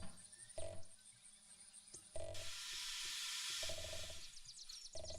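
Steam locomotive in the railway simulator game Derail Valley, a broad loud hiss of venting steam swelling midway and holding for a couple of seconds, with mechanical clanks and rattles before and after.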